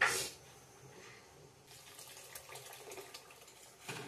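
Water poured into a cooking pot of potato and chickpea ghugni, a brief splashing gush at the start followed by a softer, continuing watery trickle and faint kitchen noise.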